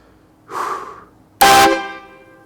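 A loud Chinese-made train horn fitted to a car gives one short breathy puff, then a powerful blaring blast of about a quarter second whose sound rings on and fades.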